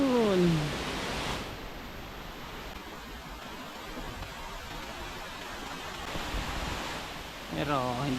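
A waterfall reached after a long forest walk gives a steady broadband rush of falling water, continuous and fairly loud, with a short burst of voice or sound at the start and end.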